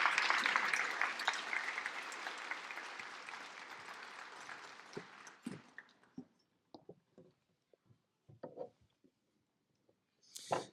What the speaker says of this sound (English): let's give one more round of applause for all of our 2026 Young Composer finalists